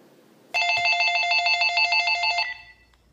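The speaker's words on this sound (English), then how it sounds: "Oh, it's ringing." A telephone bell rings in one loud, trilling burst lasting about two seconds, then cuts off into quiet.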